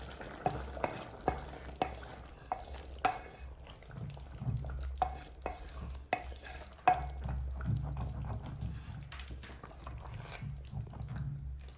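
A spoon scrapes and knocks in a pot of frying rice, steady stirring with a soft sizzle underneath and several sharp clinks early on, close and fairly quiet, with no voices.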